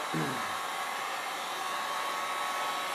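A heat gun warms a car fender before it is rolled, giving off a steady, close, continuous blowing roar that holds level throughout.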